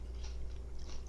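Close chewing of a mouthful of roasted corn salsa, soft crunchy bites and wet mastication repeating steadily through a brief moment with no talking.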